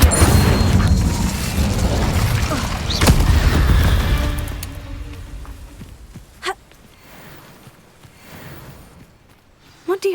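An Incendio fire spell blasts in Hogwarts Legacy: a loud, dense roaring burst of fiery crackle for about four seconds, then it fades into quieter game ambience with a few sharp impacts and a voice-like gasp.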